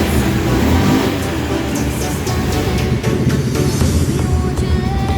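Honda Beat FI injected scooter engine bogging and failing to respond when throttled, a loud continuous rough drone held close without a clean rise in revs.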